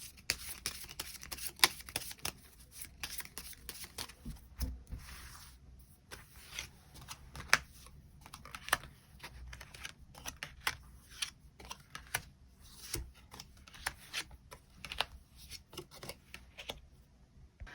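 Tarot cards being shuffled and drawn for a weekly reading: a steady run of soft papery riffles, slaps and flicks close up, with sharper card snaps scattered throughout and no talking.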